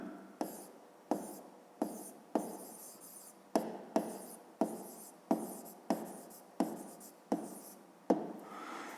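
Pen or chalk writing out a math solution, a run of about a dozen quick scratchy strokes separated by short pauses, close and quiet, with no talk.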